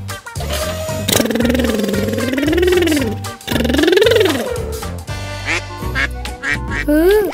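A voice imitates a duck with long, drawn-out wavering quacks, loud and close, followed by a few shorter quacks amid light background sounds.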